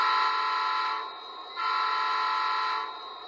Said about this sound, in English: Ring the bell, sound 2 blasts of the horn